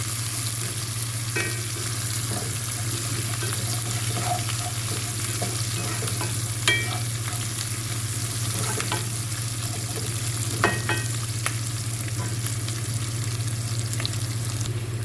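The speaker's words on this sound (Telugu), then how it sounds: "ఇవి బాగా వేగాలండి." Steady frying sizzle in a pan of spices before moringa (drumstick) leaves go in, with a constant hiss, a low hum underneath and occasional sharp scrapes of stirring; no talking.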